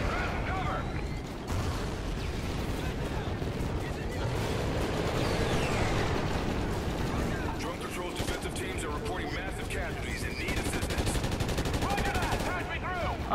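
Dense, continuous gunfire and explosions from a Call of Duty: Ghosts match, loud and unbroken across the whole stretch, with bursts layered on a game soundscape and a voice talking over it at times.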